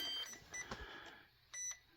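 Several short electronic beeps from an RC truck's speed controller at startup, thin and fairly faint, with a pair of quick tones near the end and no talking.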